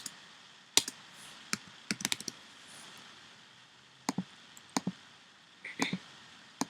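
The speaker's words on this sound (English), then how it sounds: "I'm going to type in Bill Tracker" Typing on a computer keyboard, scattered sharp key clicks in short irregular clusters with quiet gaps between them, close by with no talk.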